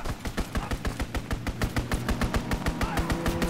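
Rapid machine-gun fire from an enemy strafing run in the video game Call of Duty WWII, a steady stream of evenly spaced loud shots over a low rumbling drone.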